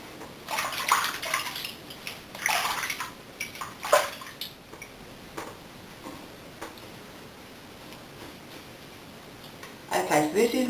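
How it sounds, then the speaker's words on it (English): Water splashed to rinse face wash off a face: a few close splashes and sloshes early on, then quieter dripping and running water, with another splash at the end. "I'm just going to rinse it off."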